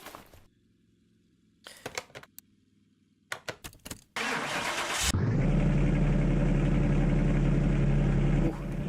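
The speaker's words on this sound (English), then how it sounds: "it's amazing the car still starts anyway" In the Car Mechanic Simulator game, a Ferrari 250 GTO SWB without its original engine is heard. First comes a quiet pause, then several short clicks and clunks, then the engine cranks and catches into a loud, steady idle that runs to the end.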